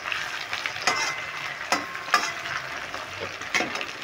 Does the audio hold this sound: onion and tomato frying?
yes